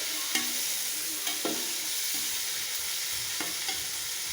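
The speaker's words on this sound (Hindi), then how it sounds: "थोड़ी देर इसको भून लेते हैं।" Chicken pulao ingredients sizzle steadily in a pan while a spoon stirs and scrapes in a few sharp, separate strokes, close and fairly quiet, with no talking.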